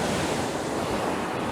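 Ocean waves break and wash over coastal rocks in a constant, loud, close roar of surf with some wind noise on the microphone, and no voices.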